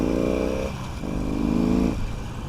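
A motorcycle engine drones steadily while riding and rises in pitch in stages as the throttle opens, with wind noise throughout.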